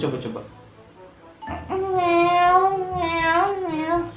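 A voice imitates a cat's meow, drawn out and wavering, after a brief moment of quieter sounds; close and fairly loud.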